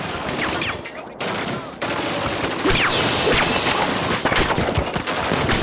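Dense, rapid bursts of anti-aircraft gunfire from a war film scene rattle on continuously, loud and layered, with short pauses and voices shouting amid the shooting.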